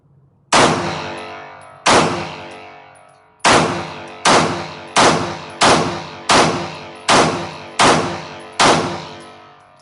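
Staccato pistol fired one-handed at a range, ten sharp, loud shots with ringing decay, spaced unevenly at first then in a quicker steady rhythm.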